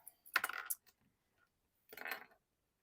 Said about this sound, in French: Ma lame est tombée.